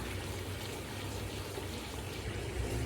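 A small splash of water poured into frying ginger-garlic spices in a pot for beef biryani, a soft quiet trickle and hiss under a steady low background.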